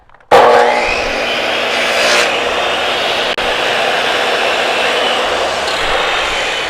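A 12-inch sliding saw starts abruptly and runs with a loud, steady, close motor whine for about six seconds, with no talk.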